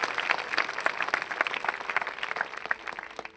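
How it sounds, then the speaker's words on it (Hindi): A congregation at a New Year festival church gathering keeps clapping, a thick continuous patter of many hands sustained for a few seconds with small swells, without speech over it. "थोड़ा और ताली बजा के मुस्कुरा के प्रभु को धन्यवाद दो"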